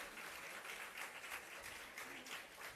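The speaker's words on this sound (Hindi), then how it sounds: "जोरदार तालियों की गड़गड़ाहट के साथ में भैया बहनों का स्वागत सम्मान" A crowd claps steadily, a soft continuous patter of applause heard from some distance, fairly quiet throughout.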